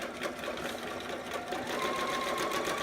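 A sewing machine stitches steadily along the top edge of fabric, a loud, close, continuous rapid whirring hum that runs throughout without any speech.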